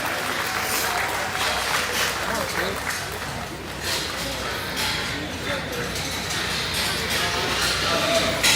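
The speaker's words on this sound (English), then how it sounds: "please give our judge, Mr. Justin Rodabaugh, a nice round of applause" Crowd applause at a junior market barrow show at the Arizona National livestock event, steady moderate clapping that continues under background arena noise for several seconds.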